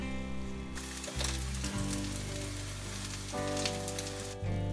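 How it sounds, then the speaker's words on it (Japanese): Fish nuggets made from leftover bonito dashi flakes fry in a pan, giving a steady, close sizzle that changes slightly as the pieces are moved, with no talking. "あとは両面こんがりと焼けば出来上がりです"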